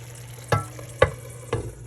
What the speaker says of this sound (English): I just added some basil leaves and now we're just mixing it around.